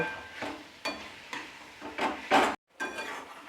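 Fried cauliflower pieces mixed into a curry in a pan, with several distinct scraping, stirring strokes over a soft sizzle, close up, broken by a brief moment of silence.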